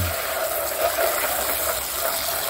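Water is poured steadily over aglaonema plants set in a container, giving a continuous soft gushing splash that stays even and fairly quiet for a few seconds with no talk.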